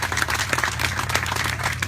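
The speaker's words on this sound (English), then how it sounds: "She really deserves a round of applause," Scattered, fairly quiet applause at a dog park dedication in Anaheim, California, with a small outdoor crowd clapping continuously over a low background hum.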